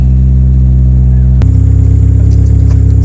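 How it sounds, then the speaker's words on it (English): A 2000 Mitsubishi Evolution 6 Tommi Makinen Edition with a Blitz Nur exhaust idles loud and close from behind the car. Its deep burble steps up sharply partway through into a rougher, throbbing rev, and nobody speaks. "check out the exhaust note from outside"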